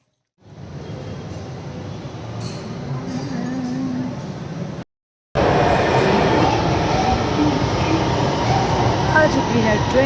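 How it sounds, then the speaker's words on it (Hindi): A train arriving at a station at night, a steady loud rumble and rush that cuts out briefly and returns stronger, close by, with some high squeals above it. "आ चुकी है ट्रेन।"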